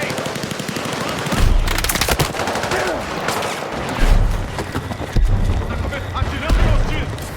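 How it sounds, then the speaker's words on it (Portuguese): Automatic gunfire in the Battlefield 6 campaign, a military game firefight: repeated rattling bursts and heavy booms that recur over several seconds amid game battle noise and shouted combat voices. "Atirando no hostis!"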